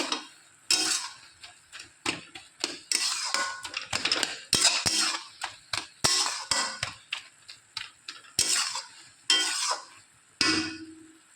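Kolmi greens (water spinach) being stirred in a pan produce repeated metallic scrapes and clinks in irregular bursts, close and distinct, with brief pauses and a faint sizzle between strokes.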